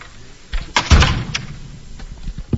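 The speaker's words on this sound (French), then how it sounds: "Alors, on vient de me fermer la porte au nez." A door is shut with a single dull thud and a brief rattle, heard close at a residence entrance, followed by faint rustling and light knocks.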